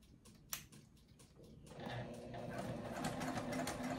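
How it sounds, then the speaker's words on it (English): A sewing machine back stitching a circle bag, starting after a few soft clicks and then running steadily and close, with a voice talking over it. "And I'm gonna back stitch across."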